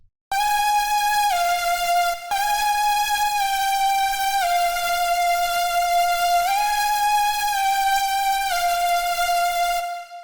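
A heavily distorted Serum future bass lead sits on top of chords, with a bright, buzzy sustained line stepping between a few held notes, loud and continuous for about ten seconds.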